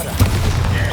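Bombarda explosion spell in Hogwarts Legacy, a loud booming blast with a heavy low rumble sustained over the full second.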